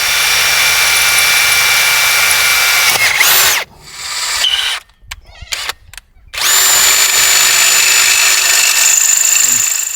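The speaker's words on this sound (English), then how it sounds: "I'll drill the other holes" A power drill bores bolt holes for an inflatable boat's transom fitting, its high whine running steadily, cutting out and stuttering in brief bursts midway, then resuming loud and close.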